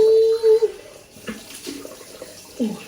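Water runs from a bath tap, splashing and gurgling with a hiss, while a voice and brief talk occur over it at close range.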